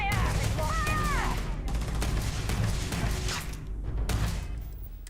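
Gunfire in the Starfield video game, several rapid bursts and shots cracking through the scene, mixed with game effects and a voice calling out.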